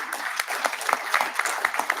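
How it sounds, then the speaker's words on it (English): An audience at a green energy conference's closing session claps for the organisers: steady, moderately loud applause with scattered sharper claps, and no talk over it. "We all owe them a big round of applause."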